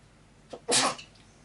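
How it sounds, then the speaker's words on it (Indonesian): One sharp human sneeze, a quick intake followed by a loud burst of breath, close by in a quiet indoor room. "Aduh, bersin."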